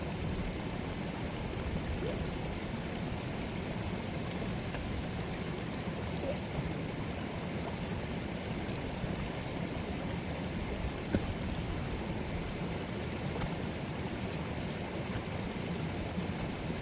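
A mountain river rushes steadily in a winter setting near the Coma Pedrosa, its broadband flowing water close and constant with no break and no voices throughout.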